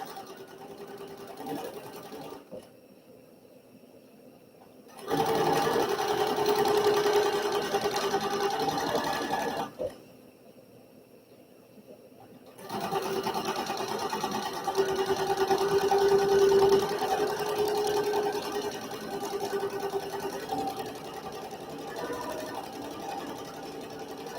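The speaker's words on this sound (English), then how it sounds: "I love rehabbing a good vintage sewing machine" A vintage sewing machine runs in two steady bursts of rapid mechanical stitching, each several seconds long, separated by short quiet pauses, piecing quilt strips.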